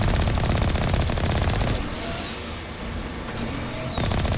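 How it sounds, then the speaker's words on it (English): Rapid enemy fire crackles in the sci-fi game Mass Effect. Dense automatic bursts come in loud, close volleys, and thin whizzing shots streak past between them, with no talking. "And the poison shots are a lot more harder to dodge."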